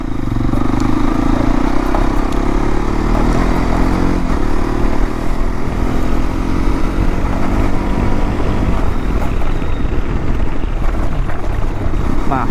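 A Hero XPulse 210 motorcycle carrying a pillion rider drones steadily throughout, its engine hum mixed with loud, continuous wind rush as the bike rides along.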